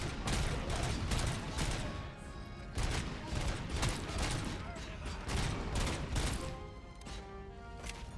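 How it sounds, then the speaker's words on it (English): Grenade blasts and rapid gunfire from a RoboCop video game, a dense, continuous barrage of shots and explosions that stays loud throughout, with a voice reacting over the top. "Oh, that's a grenade."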